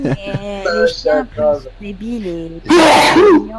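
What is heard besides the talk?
sneeze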